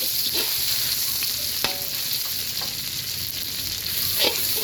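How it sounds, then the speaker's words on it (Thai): Oil sizzles loudly and steadily in a hot wok over high heat as curry paste and vegetables are stir-fried, with scattered scraping clicks over the continuous frying hiss. "ตั้งกระทะใส่น้ำมันนะครับ พริกแกงที่เราเตรียมไว้นะครับ ใส่ผัก"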